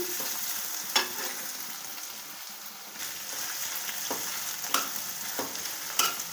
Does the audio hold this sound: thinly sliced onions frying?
yes